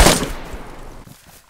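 A gunshot from the survival video game DayZ cracks loudly at the start, then a trailing echo fades over about a second, heard alone.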